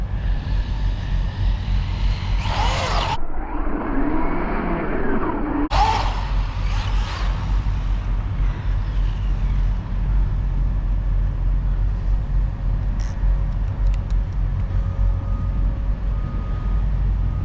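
A Team Corally Python RC car tears along a street, giving short bursts of high electric motor whine and tire noise between quieter stretches of traffic and ambient hum.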